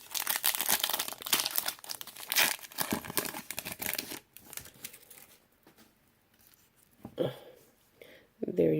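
A Pokémon card booster pack being opened: crisp foil crinkling and tearing in dense bursts, then a quieter stretch with light rustling before a final burst of crinkling.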